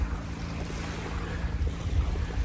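Ocean waves washing onto the shore beside a free campsite, a steady low rumbling wash blended with wind buffeting the microphone, continuous and fairly loud throughout.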